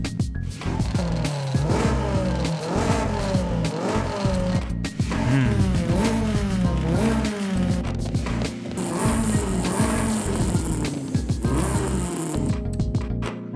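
Exhaust of a Nissan Silvia K's S14 in Forza Horizon 5, upgraded to full tune, roaring loud and close through repeated rising revs and gear changes, with brief tire squeal near the end and no talking.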